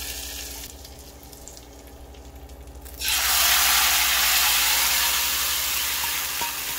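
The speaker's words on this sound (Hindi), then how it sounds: "अब इसको लगाते हैं इस तरह से तड़का" Tempering spices in hot oil poured onto curry hit with a sudden loud, bright sizzle that surges in and keeps hissing steadily, following a quieter stretch of faint kitchen clatter.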